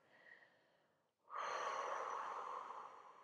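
Breathing out slowly during a sophrology relaxation exercise: a soft, close, steady airy exhale of about two seconds after a brief pause, with faint breath noise before it and no talking.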